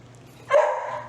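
A single sharp bark from a young service dog puppy in training, close and fairly loud, rising out of a low background hum.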